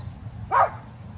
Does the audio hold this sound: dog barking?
yes